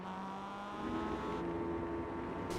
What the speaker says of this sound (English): You could hear from the onboard the engine just revving